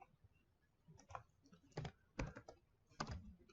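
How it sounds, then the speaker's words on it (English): Keystrokes on a computer keyboard come in short bursts of quiet clicks with pauses between groups, close and alone without talk. "if I do come in here and type in hello"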